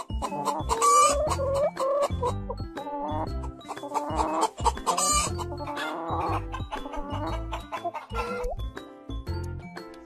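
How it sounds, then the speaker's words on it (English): Hen clucking in a series of close, busy bursts, clucks and squawks tumbling over each other continuously and fairly loudly. "Hen."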